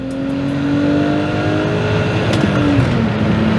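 A BMW E34 530i with a manual gearbox, its engine note falling smoothly as the revs drop quickly, heard as a continuous moderately loud drone from inside the moving car with no talk.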